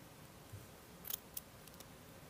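Scissors snip through jacket lapel fabric while the seam allowance is graded and a corner is trimmed, a couple of crisp quiet cuts followed by fainter snips, close by in a quiet room.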